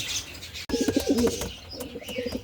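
A racing pigeon back home after a race from Calauag, Quezon, coos in a short run of close, clear low calls. A few chirps from other birds sound through steady outdoor background noise.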